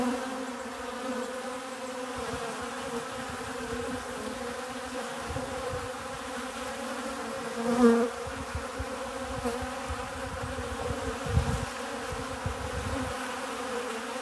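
Honeybees buzz steadily and continuously close by around a birdbath where they collect water, a dense droning hum with slight swells and no talking.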